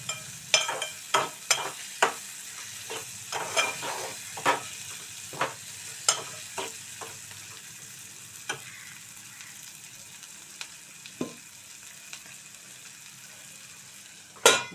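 Dried small fish (mettallu) fry in a pan for a brinjal curry, giving a soft continuous sizzle punctuated by repeated sharp clicks and scrapes of a spoon stirring.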